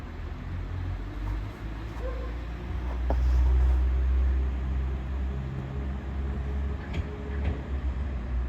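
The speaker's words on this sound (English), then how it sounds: "Train now departing is a 195 going to Chester." A Class 195 train pulls out of Earlestown station bound for Chester, giving a steady low engine rumble that swells for a few seconds mid-way, with faint platform clatter around it.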